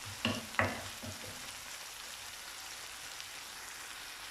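Turkey and button mushrooms fry with garlic, onion, spices and salt in a pan, a soft, continuous sizzle with a couple of louder stirring clatters at the start; nobody speaks.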